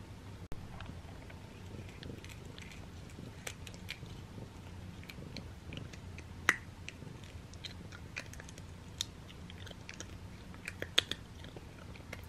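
A cat crunches on a small homemade dehydrated chicken and catnip treat, faint crisp clicks and bites scattered irregularly over a quiet background.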